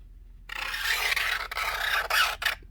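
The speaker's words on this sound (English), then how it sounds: "This hobby knife will get down where your sandpaper won't" Hobby knife scraping into the corners of a wooden 1:20 scale hydroplane model hull, a close dry rasping rub in short continuous strokes with brief pauses, no voices.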